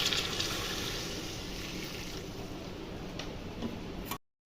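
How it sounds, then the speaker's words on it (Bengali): Water poured into spiced chicken in a pan hisses and sizzles as a steady broadband wash, close and continuous for about four seconds before cutting off abruptly. "দেখো মাংসতে জল অ্যাড করছি।"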